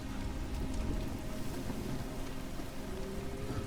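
Steady rain falls in the survival video game Soulmask, a dense, even hiss of drops hitting surfaces that holds at the same level throughout, with no talking.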